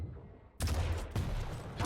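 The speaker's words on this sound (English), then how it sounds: "A couple of rockets being fired by SIB and hits a nice rail" Rockets and railgun shots fired in a Quake match, a loud blast of gunfire noise bursting in after a quiet start, with a second heavy shot about half a second later and another at the end.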